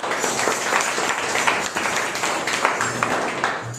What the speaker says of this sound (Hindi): क्यों ना हम जोरदार तालियां बजा के परमेश्वर